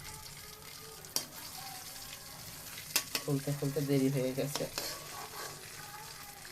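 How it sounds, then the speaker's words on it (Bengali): Pangas fish frying in oil on a home stove with a steady sizzle, a loud crackling burst partway through, and scattered clatters and stirring knocks; someone speaks briefly. "বেশি করে ভেজে নিচ্ছি"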